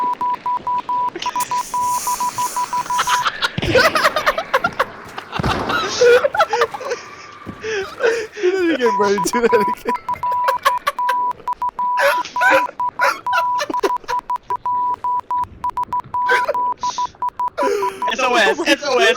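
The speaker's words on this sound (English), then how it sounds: "I'm communicating with Morse Code." Steady beeping tones of Morse code over a radio come in short repeated bursts, loud and close, mixed with a dog barking and someone talking.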